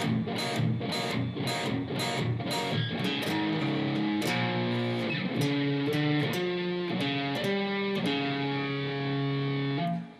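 An electric guitar plays the third part of a blues-rock song at a slow tempo, a steady stream of distinct picked notes and bent tones with a light overdriven edge, played alone and close.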